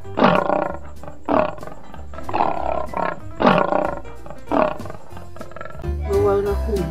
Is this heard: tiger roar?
yes